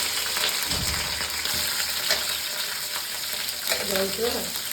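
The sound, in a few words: capsicum frying in a pan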